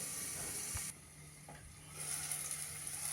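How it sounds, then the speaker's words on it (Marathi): Chopped onion and tomato steam in a covered pan for a rice masala roti, giving a faint, steady sizzle and hiss with a brief soft knock early on. "झाकण ठेवून तीन ते चार मिनिट आपण वाफवून घेऊया कांदा आणि टोमॅटो"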